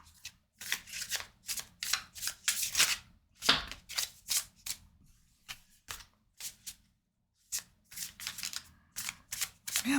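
Tarot cards shuffled close up in quick riffling bursts, crisp slaps and flutters repeating in an uneven rhythm with brief pauses between shuffles.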